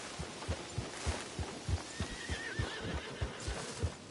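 A horse in Red Dead Redemption 2 whinnies over a steady, close clip-clop of hooves that beats in an even rhythm throughout, with no talk.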